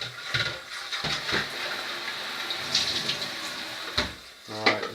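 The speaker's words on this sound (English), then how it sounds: "Just giving it a quick rinse. Get all that vinegar out." Tap water splashes into and around the plastic water container of a Nescafe Dolce Gusto Oblo coffee machine as it is rinsed out at a sink, with close, continuous hissing and gurgling and a few knocks of plastic.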